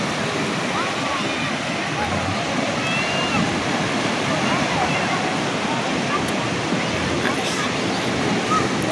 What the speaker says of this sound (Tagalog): Lakas ng alon mga kawengdet.